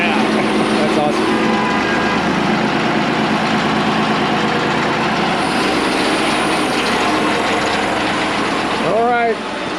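A boat engine converted from a farm irrigation pump idles loud and close with a steady rumbling chug and mechanical clatter. Voices talk over it throughout.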